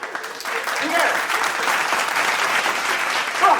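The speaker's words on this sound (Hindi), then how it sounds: "एक जोरदार तालियां इनके लिए" Enthusiastic applause from an audience at a motivational sales talk, continuous clapping at fairly strong level with a voice faintly present underneath.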